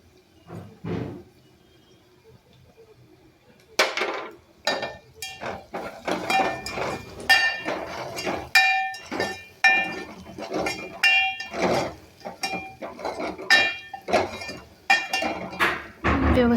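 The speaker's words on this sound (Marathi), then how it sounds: "खलबत्त्यात चेचून." Coriander is pounded in a mortar and pestle, producing a string of sharp, ringing clinks and knocks in an uneven rhythm. The strikes are close and distinct after a quiet start.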